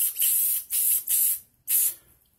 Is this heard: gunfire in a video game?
no